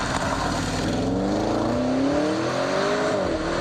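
A Ferrari 458 Italia engine revs hard and loud, its pitch climbing and falling in long sweeps, close by with no talking.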